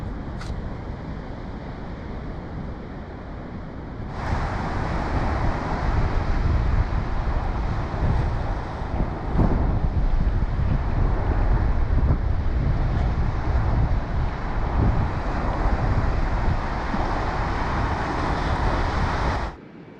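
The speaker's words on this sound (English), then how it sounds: "Those waves are huge." Large ocean surf at Surfers Point, Prevelly, on Western Australia's southwest coast, roars as a broad, loud, continuous wash buffeted by wind noise on the microphone, swelling sharply after a few seconds and cutting off near the end.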